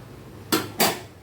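A metal lid clatters onto a cooking pan twice in quick succession, two close, bright clanks against quiet kitchen background while mung dal dosa and chutney are being made.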